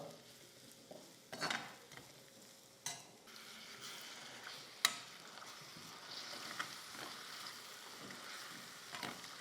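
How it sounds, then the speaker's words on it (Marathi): Steady sizzling from a hot pan as ingredients for a Vidarbha-style fresh pigeon pea curry are roasted until reddish, with scraping stir strokes and occasional utensil knocks, close by and moderately quiet, no talking. "हे छान व्यवस्थित सगळं लालसर आपल्याला भाजून घ्यायचं आहे"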